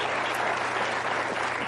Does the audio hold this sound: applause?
yes